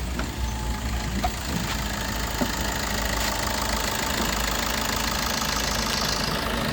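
A 2016 Maruti Ertiga ZDi+ diesel idling, a steady, even engine drone with a faint knocking texture that holds at a constant level throughout, close by and with no talking.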